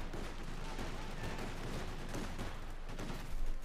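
Rapid gunfire from a half-track cutting down Grenadiers in the open in Company of Heroes 2, a dense, steady crackle of shots over a loud battlefield din, with a heavier burst near the end.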